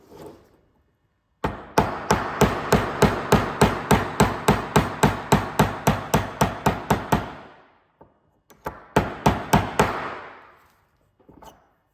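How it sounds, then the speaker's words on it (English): Loud, evenly spaced metallic hammer strikes ring out in a long rapid series while knocking out a ball bearing from an F3A contra drive, pause, then a shorter burst of blows follows. "I'm just going to use hammer to remove it."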